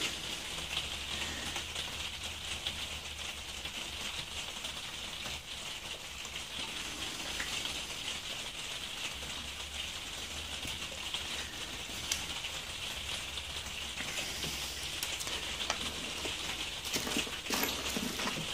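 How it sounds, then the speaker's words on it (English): Steady rain falls onto a surface, a constant hiss dotted with scattered drips and taps, moderately faint and continuing without pause. "You might be able to tell it's raining as well."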